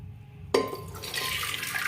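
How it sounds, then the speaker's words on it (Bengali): Soaked yellow peas tipped into a pot along with their soaking water, a sudden splash followed by a steady pouring, filling rush of liquid, close and fairly loud, with no one talking. "আমি জলসহ অ্যাড করলাম,"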